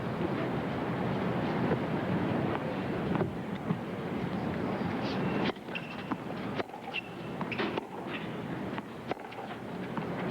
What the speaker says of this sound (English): You can see how windy it is down there.